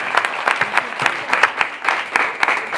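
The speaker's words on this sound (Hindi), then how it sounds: "एक बार रामू भाई के लिए जोरदार ताली बजाओ।" An audience at a comedy and song gathering gives Ramu loud applause, steady hand clapping with sharp individual claps standing out, close and alone without talk.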